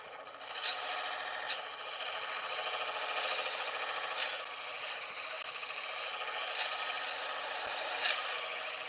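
Carbide lathe tool cutting wood while turning a bottle opener, a steady close scraping hiss with faint rhythmic ticks as the spinning workpiece passes the cutter.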